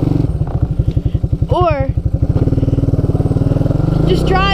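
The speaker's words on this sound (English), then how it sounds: "anybody else who drives a single cylinder ATV like my 250 right here" Single-cylinder 250 ATV engine running with a steady, loud pulsing putter close by, rising slightly in pitch, while someone talks over it throughout.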